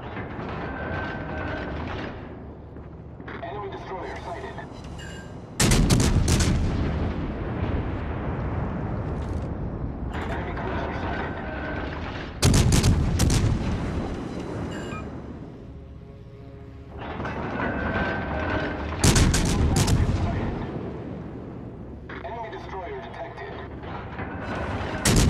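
Naval guns firing in World of Warships: Legends, with several heavy booming salvos spaced a few seconds apart, each ringing out into a rumbling tail over a constant mechanical background, and speech in places.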